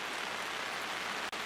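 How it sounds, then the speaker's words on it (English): Rain patters steadily on an umbrella in a light shower outdoors, a dense, even hiss close overhead with one brief sharp tap near the end. "Well, you'd see maybe it's raining pretty good now."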